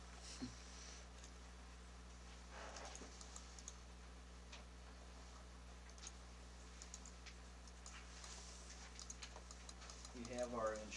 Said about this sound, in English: Greg's got to type first